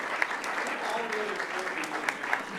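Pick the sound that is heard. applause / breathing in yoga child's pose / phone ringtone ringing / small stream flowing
applause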